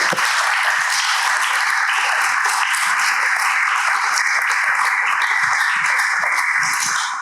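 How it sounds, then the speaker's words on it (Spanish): Students at Colegio Elim Norte in Guatemala clap together during a live school recording, a bright, even wash of hand claps lasting throughout at steady volume. "Un aplauso para el Colegio Elim Norte"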